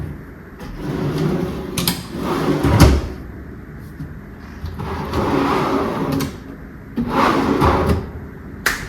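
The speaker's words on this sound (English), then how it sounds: "test your drawer again to make sure everything's good" A long kitchen cabinet drawer on newly installed slides is pulled out and pushed shut several times, each run giving a rolling slide and a soft thump, close and steady without speech.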